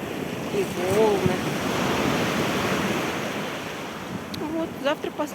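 Sea waves wash and roar steadily onto the shore at Gagra, a loud continuous surf rush mixed with wind buffeting the microphone, with a few faint bird-like chirps near the start and end.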